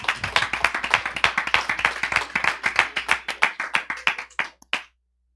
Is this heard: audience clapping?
yes